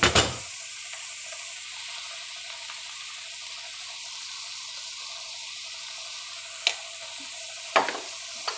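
Egg tomato podimas in a pan with a low, steady sizzle, a few sharp scrapes and clinks from stirring near the end, and no voices.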